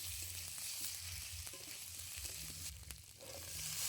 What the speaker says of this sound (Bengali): আলু খুব ভালো করে মশলার মধ্যে নাড়াচাড়া করে নেব।